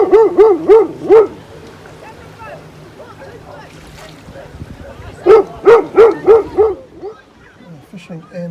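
Two quick runs of five rhythmic barks, each run followed by a reply, come from a dog on a shore and a person on a boat who answers by imitating the barks, with water and boat noise throughout.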